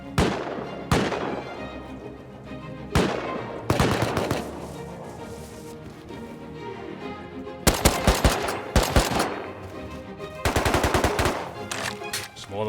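Loud automatic gunfire from the video game Rust, with rapid bursts and single sharp shots and a dense rattling volley near the end, mostly alone with little talk.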